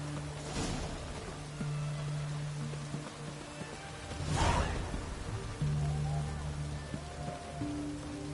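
Steady rain hisses in The Witcher 3, a constant wash of falling water with a low rumble beneath and a couple of swelling gusts.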